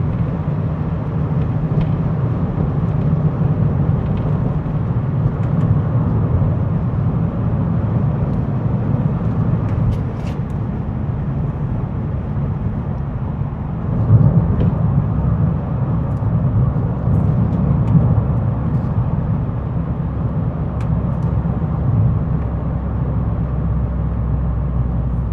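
Mazda MX5 on upgraded coilovers driving at speed through corners, a continuous low in-cabin engine and road rumble, steady throughout with brief swells.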